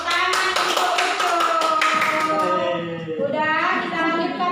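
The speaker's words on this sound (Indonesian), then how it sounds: "Tepuk tangan untuk itu." Classroom applause from students at an elementary school in Indonesia, a dense run of many hands clapping fast and fairly loud, thinning out toward the end as a voice begins speaking over it.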